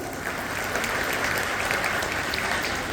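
A crowd of women at a self-help group meeting in Vinchur, Nashik claps steadily and densely, a continuous wash of applause with no talk over it.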